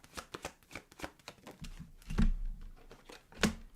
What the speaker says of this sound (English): I'll be shuffling. You see me shuffle.